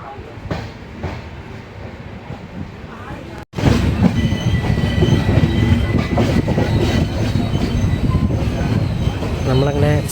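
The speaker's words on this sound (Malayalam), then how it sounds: "നമ്മളങ്ങനെ അടുത്ത സ്റ്റോപ്പായിട്ടുള്ള രാജപാളയം സ്റ്റേഷനിലേക്ക് എത്തിക്കൊണ്ടിരിക്കുകയാണ്." The Pothigai Superfast Express rumbles and clatters, heard from inside a crowded coach as it nears Rajapalayam station in Tamil Nadu. The noise is steady and moderate, then jumps abruptly to a loud, close roar of wheels and carriage noise.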